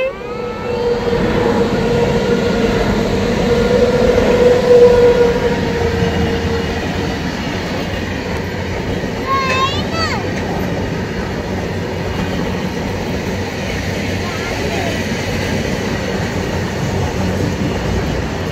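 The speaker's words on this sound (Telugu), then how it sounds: "సో ఒక ట్రైన్ వచ్చే సిగ్నల్ ఏదో ఒక సౌండ్లో వినిపిస్తుంది" A train rolls past with a sustained rumble and rail clatter, a short wheel squeal midway, steady and fairly loud throughout.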